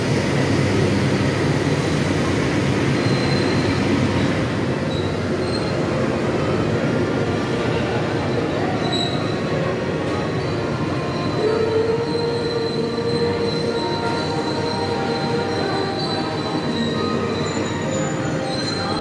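Manahan passenger train arriving at Purwokerto station, a loud continuous rumble of rolling railcars with sustained high wheel squeal running throughout, close by and with no voices.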